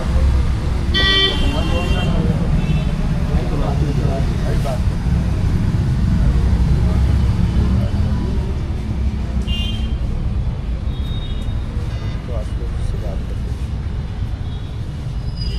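Busy road traffic at a station road in India, with engines rumbling, a couple of horn toots and passing vehicles throughout, while people talk loudly over the noise.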